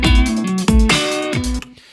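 Drum kit beat with a few heavy snare drum hits spaced roughly evenly, loud and close, each strike ringing briefly before the next lands.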